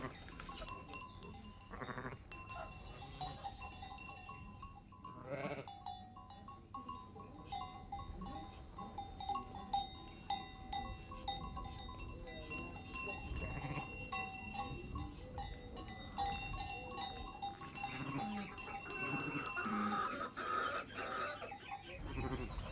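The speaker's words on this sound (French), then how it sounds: "c'est aujourd'hui la première sortie avec leurs agneaux" Ewes and their lambs bleat on a farm on their first outing together, calls overlapping near and far at varied pitches against a steady outdoor background, with an occasional cowbell-like clank.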